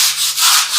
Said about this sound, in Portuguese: Então eu passei massa corrida. Agora, como vocês estão vendo, eu estou lixando.